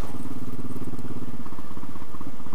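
A Royal Enfield Classic 500 single-cylinder engine thumps at a steady idle, its rhythmic low pulses close and loud and continuing evenly without any talk.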